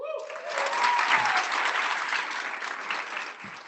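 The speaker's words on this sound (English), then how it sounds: "let's give another round of applause to Tyler Gwendolyn Brown" An audience at a student success summit applauds for Tyler Gwendolyn Brown, a dense sustained wash of clapping from a sizable crowd that holds steady for several seconds before slowly tapering.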